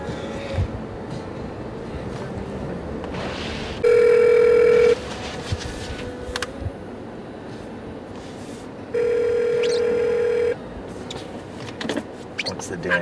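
A phone call placed from inside a car: two long steady ringback tones come through the handset with road noise beneath, and people talk around them.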